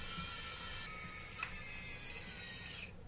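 A screwdriver turns small screws back into the arm of a DJI Mavic Mini drone during repair, a steady close ratcheting, clicking whir that runs continuously for about three seconds with no talking.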